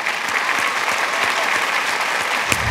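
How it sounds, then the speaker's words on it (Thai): A studio audience on the Thai television game show Davinci gives loud, sustained applause: a thick, even wash of many hands clapping at once, with no one speaking over it. "เอ้าขอเสียงปรบมือดังๆให้กับพี่เต้ยครับ"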